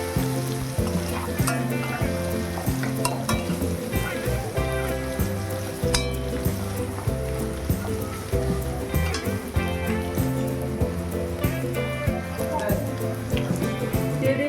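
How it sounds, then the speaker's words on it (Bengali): Chopped garlic fries in hot oil in a wok, a steady broadband sizzle running throughout beneath loud, rhythmic background music. "রসুনটাকে ভালো করে একটু ভেজে নেব।"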